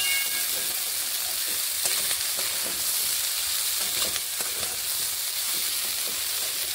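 Beans and potatoes fry in a pan, freshly uncovered, with a loud, continuous sizzle and hiss, while the spoon stirs through them with scattered soft scrapes and clicks.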